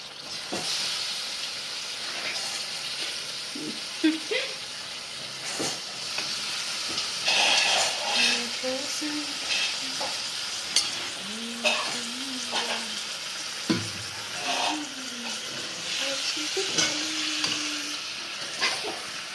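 Chicken gizzards fry uncovered in an open pan, giving a steady soft sizzle and hiss broken by occasional clinks and scrapes of stirring.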